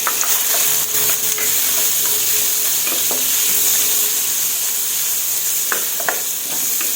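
Pork belly is stir-fried in hot oil for a Thai tepo curry, giving a loud, continuous sizzling hiss close by, with a few scattered clacks from the utensil against the pan.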